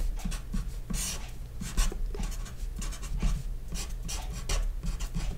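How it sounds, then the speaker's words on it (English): A math equation is written out by hand in quick, rasping strokes, short scratchy bursts repeating close up with a steady low hum beneath and no talking. "let's write down this quantity"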